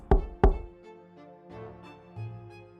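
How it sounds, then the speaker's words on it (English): A text-based adventure game plays two sharp, loud knocks on a wooden door in quick succession, followed by soft, low musical tones. "There is a knock at the door."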